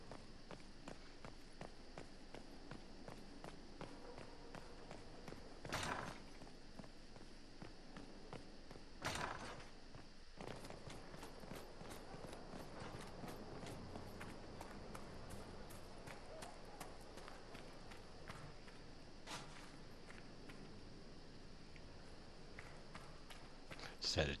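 Horse hooves clip-clop at a steady walking rhythm in the Dragon Age: Inquisition video game, a quiet, continuous patter of repeated hoofbeats with a few louder thumps and no talking.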